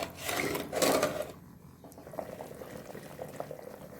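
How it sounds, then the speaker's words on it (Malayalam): A pot of rice bubbles and churns at a boil, with a couple of louder rushing bursts early on, then softer popping and bubbling. "അപ്പം നമ്മൾ അരിയൊക്കെ നന്നായിട്ട് തിളച്ചിട്ടുണ്ട്"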